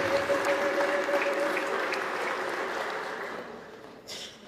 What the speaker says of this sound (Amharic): አሁንም እልልታና ጭብጨባ ለኢየሱስ።